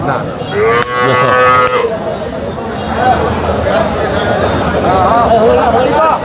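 Cattle, Friesian cross and Sahiwal cows with calves, moo loudly at a busy village livestock market, one long low call rising over the crowd's chatter and bargaining voices.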